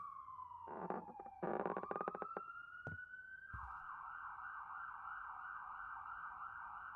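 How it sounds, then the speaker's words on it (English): A siren inside a video game wails with a steady rising tone, then shifts into a fast warbling yelp that holds to the end. Scattered clicks and taps sound underneath, with no talking. "You hear that siren?"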